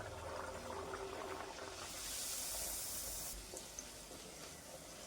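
Kachori made with chana dal frying in hot oil: a soft, steady close-up hiss with a brief louder sizzling swell in the middle, no talking.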